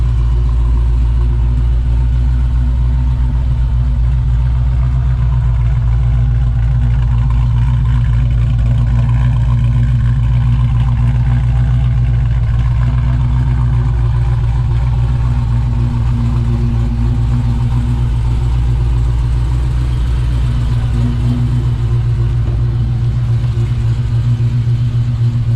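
A Dodge Challenger Scat Pack with a Whipple supercharger and CNC-ported heads idles up close, a deep, steady rumble with a faint lope holding evenly throughout, no voices over it.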